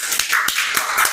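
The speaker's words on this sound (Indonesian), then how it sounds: "Beri tepuk tangan yang meriah untuk kelompok 2" Classroom applause for a student group comes as a few quick, sharp claps in an even rhythm, close and fairly loud.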